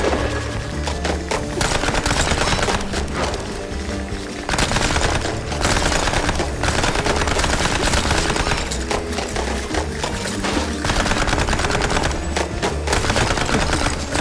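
Rapid, loud gunfire from the video game Mouse P.I. For Hire, with bursts of shots running almost continuously through the clip over a dense, busy game soundtrack, with only brief pauses between volleys.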